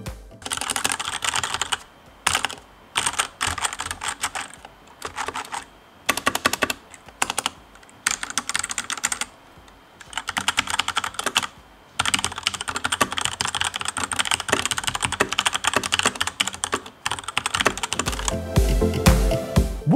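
Typing on a Cooler Master CK530 V2 RGB mechanical keyboard with red linear switches, in bursts of fast, dense clacking broken by short pauses, close and clear with no talk.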